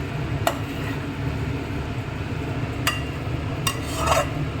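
Broad bean (avaraikkai) masala being stirred in a pan on the stove, with a few soft scraping strokes over a steady low cooking hiss, close and moderate in level, no talk.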